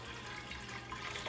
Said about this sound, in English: Now you're gonna add 7 cups of water and 4 cups of vegetable broth